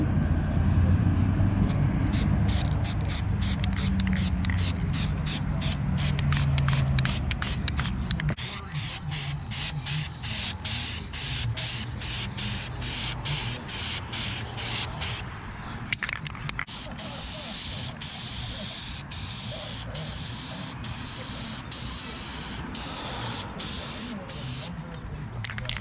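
A spray paint can hisses in repeated bursts, from longer sprays to quick rapid spurts, close and fairly loud, with a faint rumble beneath.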